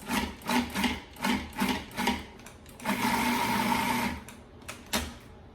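Food processor pulsing keto white chocolate macadamia cookie dough: several short whirring bursts, then a longer continuous whir before stopping, close and fairly loud with no talking.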